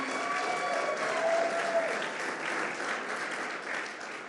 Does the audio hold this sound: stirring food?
no